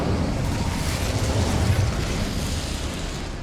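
An Incendio fire spell cast in the Hogwarts Legacy video game, a dense, loud roaring burst of flame that fills the short stretch evenly with no talk over it.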